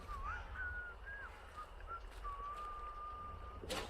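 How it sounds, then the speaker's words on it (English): A thin, faint whistled tune in a video game, in short notes, then one long held tone, over a quiet background hiss, ending with a brief noisy burst. "Someone is whistling about"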